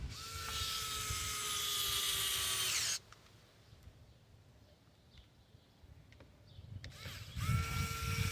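A Hart cordless drill driving screws into a Traxxas Rally Fiesta ST RC car whines steadily at high speed for a few seconds, stops, then spins up again after a quiet pause, close by.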